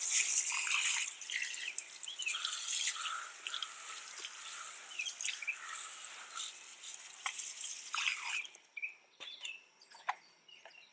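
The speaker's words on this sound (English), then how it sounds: "First thing, spray some water." An IK Foam Pro 2 pump sprayer releases a steady, close hiss of water spray that cuts off abruptly, leaving a few scattered drips afterward.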